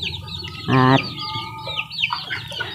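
Chickens cluck in a poultry yard, with one loud, harmonic squawk standing out near the start among repeated short, bird-like calls. A brief spoken word overlaps the clucking.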